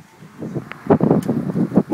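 Strong wind buffets an outdoor microphone in uneven gusts, a low rumbling roar that swells and drops over a couple of seconds, loud and close with no other clear sounds.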